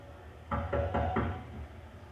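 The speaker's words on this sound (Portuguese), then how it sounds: "Vai até a porta, olha por alguns instantes e bate." Four evenly spaced knocks on a door, dull and moderately close, standing alone against a quiet background as a sound effect.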